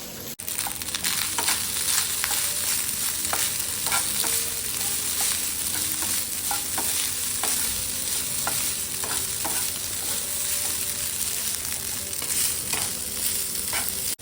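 Rice being stir-fried in a pan, a steady loud sizzle with repeated scraping and stirring clicks running throughout, no talking.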